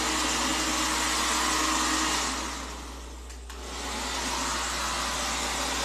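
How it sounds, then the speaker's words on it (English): A hair blow dryer running on hair, a loud, steady airy roar that dips briefly in the middle and then comes back at a slightly lower level. "My blow dryer keeps like switching seats."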